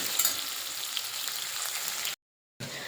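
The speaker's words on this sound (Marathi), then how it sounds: "आपल्याला कांदा यामध्ये ॲड करायचा आहे. त्याला सुद्धा छान व्यवस्थित भाजून घ्यायचं आहे, आपल्याला तळून घ्यायचं आहे." Onion frying in oil in a pan, a steady bright hiss of sizzling that runs continuously, close up, with a brief cut to silence near the end and no voices.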